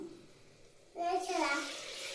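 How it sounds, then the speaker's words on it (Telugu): Water is poured into a pressure cooker of biryani masala. After a quiet start comes a sudden burst of splashing and sizzling, close and fairly loud, which then settles into a steady hiss. "వాటర్ వేస్తున్నాం."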